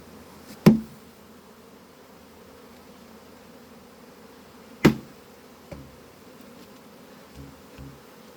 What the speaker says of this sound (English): Oh my goodness, these bees are ridiculous.